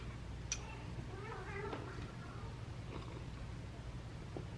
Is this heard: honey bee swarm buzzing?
no